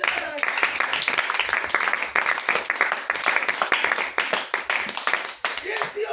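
A church congregation claps and applauds continuously, dense and steady, with voices mixed in beneath the clapping.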